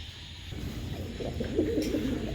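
Fancy pigeons at a loft offering birds for sale coo softly in low, rolling murmurs that rise toward the end, with faint chirps over a steady background hum.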